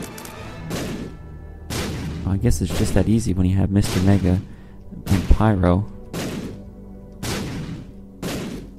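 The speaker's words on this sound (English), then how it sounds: "so many explosions." Bomb explosions in The Binding of Isaac, a series of loud, sharp booms spaced about a second apart, mixed with a voice talking over the game.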